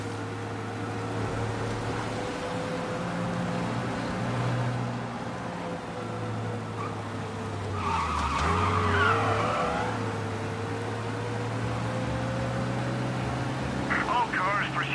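A car in the video game Mafia: Definitive Edition drones steadily at speed during a police chase, with a brief tire squeal and skid in the middle, and a voice is heard faintly.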